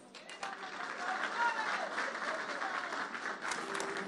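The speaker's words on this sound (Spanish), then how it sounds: "Despedimos a nuestras autoridades con un fuerte aplauso" Crowd applauding as national authorities, including President Luis Alberto Arce Catacora, depart a public event in Cochabamba, Bolivia; steady clapping fills the clip with some voices mixed in beneath.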